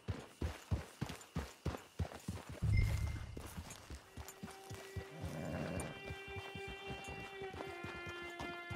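Horse hooves clip-clop in a steady walking rhythm from a game horse in Red Dead Redemption 2, a series of distinct near hoofbeats giving way to a denser rumble with tonal background sound.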